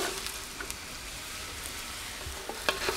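Root vegetables fry in a Dutch oven after the meat for a venison goulash, a steady, fairly quiet crackling sizzle with a few sharper pops and a light scrape, and no talk.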